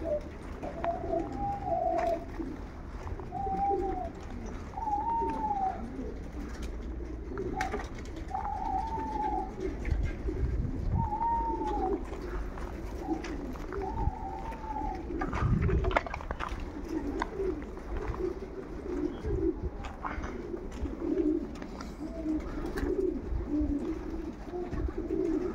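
Pigeons coo near their loft, soft repeated rolling calls spaced every couple of seconds and heard close by over low outdoor rumble and wind noise.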